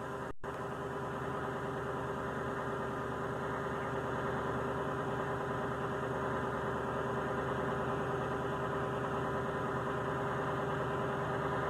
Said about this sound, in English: allow the vehicle to run for 5 minutes and watch the display